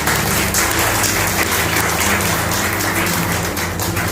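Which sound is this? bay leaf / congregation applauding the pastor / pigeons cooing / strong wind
congregation applauding the pastor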